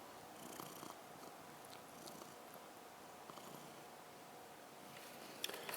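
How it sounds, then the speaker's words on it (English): A cat purrs softly and steadily throughout, a faint continuous low rumble in a quiet indoor room with a few small rustles near the end. "You're purring?"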